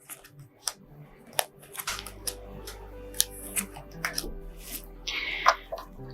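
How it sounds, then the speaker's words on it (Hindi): Cards drawn one by one from a deck for a weekly horoscope reading, giving sharp, close slides and flicks at irregular intervals over a faint low background hum, with no speech. "कार्ड्स निकालते हैं।"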